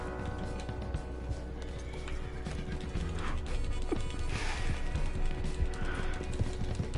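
A horse clip-clopping with scattered hoof knocks and a whinny, set against a busy, cluttered background with occasional clatters, moderately loud and close.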